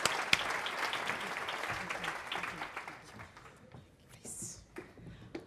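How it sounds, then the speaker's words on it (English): Audience at a climate summit on investment applauds a European Investment Bank speaker taking the floor, with moderate clapping that thins out and fades after about three seconds into scattered claps and room noise. "With your warm applause, please."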